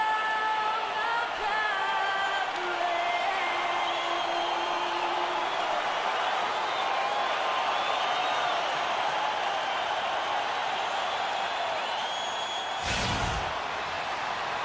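Arena crowd noise at the FedEx Forum in Memphis during a Grizzlies basketball game in NBA 2K16, a constant roar with sustained tonal singing or music at first and a sharp thump near the end.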